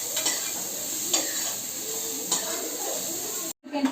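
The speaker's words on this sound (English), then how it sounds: "You can find the onion is nicely getting tossed." Chopped onions, garlic and green chili frying in a hot pan, a close continuous sizzle with periodic tossing and stirring swishes, briefly cut off near the end.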